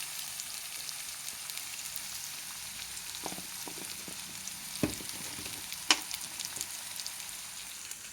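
Sliced onions fry in a pan with salt and turmeric for masala dosa filling, giving a steady soft sizzle with a few sharp clicks of a utensil against the pan, heard close with no talking.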